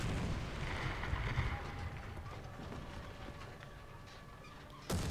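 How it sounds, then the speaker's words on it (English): An artillery barrage in War Thunder rumbles as a dense, low, continuous roll of distant blasts heard from inside a KV-1 tank, with faint mechanical tones, ending in one sharper close impact. "Again with the artillery barrage. They're barraging our square again."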